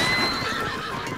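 Horses neigh and whinny in the video game The Legend of Zelda: Breath of the Wild, a loud, close whinny over a steady rumble of hooves.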